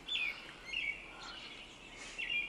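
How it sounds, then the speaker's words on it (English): Loud birds sing outdoors, with several bright chirping phrases near the start, middle and end over a quiet background. "These birds are loud as hell."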